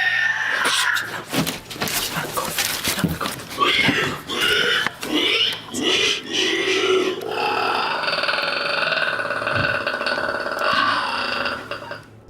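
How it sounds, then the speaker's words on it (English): An unseen creature lets out harsh warning cries that sound like a squealing pig mixed with an enraged dinosaur, a loud continuous stretch of grunting squeals and roars heard up close without talk. "It sounds like a mix between a squealing pig and some sort of enraged dinosaur"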